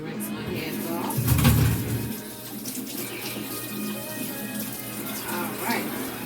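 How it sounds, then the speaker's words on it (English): A tap runs as hands are rinsed under the water, a close steady splashing stream with a louder surge around the middle, and a voice talking over it. "Let me rinse my hands off."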